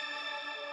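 A bright synth sparkle stab with stereo spread, modulation, delay and reverb sustains as a shimmering chord for under a second, alone and evenly loud.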